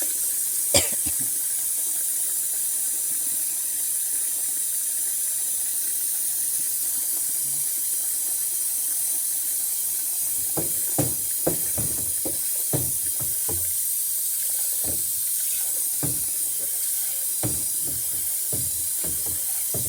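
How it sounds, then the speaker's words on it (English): A steady hiss of water running from a tap while cleaning a soap cutter fills the whole stretch, with occasional small knocks and splashes toward the end. "I think I'll add a little more water."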